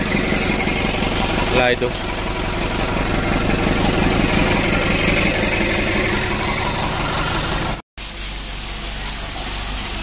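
A rebuilt 120 PS engine idles steadily while warming up, a loud, continuous close-range rumble with a slight knocking pulse, briefly cut off near the end, with a short spoken remark over it.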